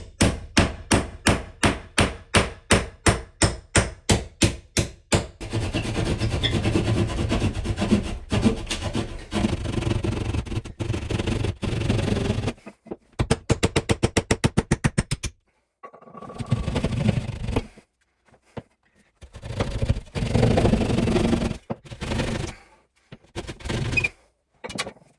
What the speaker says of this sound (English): This is just a general cutoff saw, but I think the teeth are the same as a drywall saw.